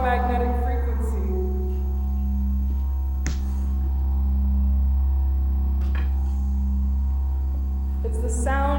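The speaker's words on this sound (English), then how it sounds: "It's the sound of this monitor screen that I'm monitoring through my" Electromagnetic hum from a monitor screen carrying the pulse of its video signal: a steady low drone with fading tonal overtones and a few sharp clicks, continuous and close.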